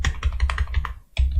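Rapid clacking of a computer keyboard as C code is typed, a dense run of keystrokes with a brief pause before more taps, close up and alone.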